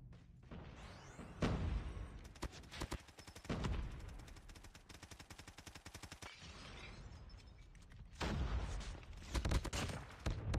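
Rapid gunfire and heavy impact bursts from a COD Mobile match, with dense crackling shots and booming strikes that surge loudly at the start, around the middle and again near the end.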